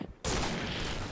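Gunfire from the shooter game Point Blank bursts in suddenly after a brief quiet moment, a dense, loud, sustained volley filling the rest of the short moment.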